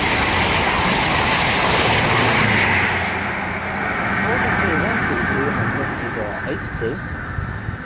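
An electric passenger train, a Class 360 Heathrow Connect unit, rolls past nearby at Southall on the Great Western Main Line with a loud, steady rumble and some clacking of wheels, while a voice talks over it.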